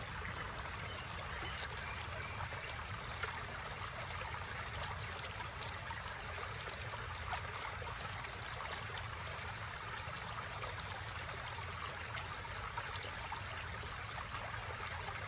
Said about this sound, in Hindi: ये पानी की गिरने की लगातार जो आवाज है